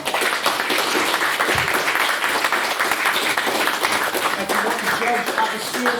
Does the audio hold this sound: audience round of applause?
yes